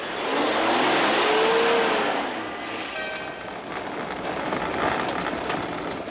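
Rally cars in the Trans-Amazon Rally of 1988 roar past loudly: a swelling engine drone with a passing pitch sweep, fading slightly into sustained mid-distance engine noise and rattles.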